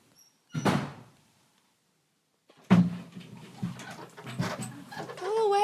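A dog pushes a door open indoors. One bump is followed by a pause, then a louder knock and creak as the door swings. Panting and movement come after, with a voice briefly in the background.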